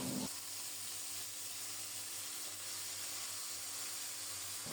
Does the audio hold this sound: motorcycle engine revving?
no